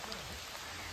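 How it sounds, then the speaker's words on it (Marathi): Rain falling steadily at a hill-station resort in winter, a soft continuous hiss of drops on surfaces, close and even throughout the short stretch with no voices. "पाऊस पडतोय"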